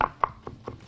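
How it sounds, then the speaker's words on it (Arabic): A kitchen knife chops tomatoes on a cutting board: five quick, crisp knocks in an even rhythm, close and fairly quiet, with no talk. "واخد عندي الطماطم وبالسكينه كده"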